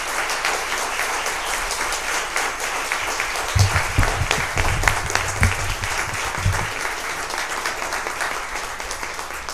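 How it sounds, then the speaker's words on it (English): An audience at a public fact-finding meeting about the I-81 highway bursts into sustained applause, a dense, even wash of many hands clapping throughout with a few louder thumps near the middle. "The alarm went off right as you started clapping."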